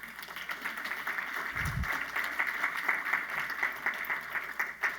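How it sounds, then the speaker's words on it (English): Audience at closing ceremonies clapping together, a fairly quiet, even wash of many hands held steady throughout with hardly any talk. "give yourselves a round of applause"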